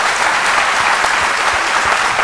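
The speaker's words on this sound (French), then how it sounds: "On va applaudir pour l'encourager." An improv comedy audience breaks into loud, continuous applause to encourage a performer, a dense wall of clapping that holds steady throughout.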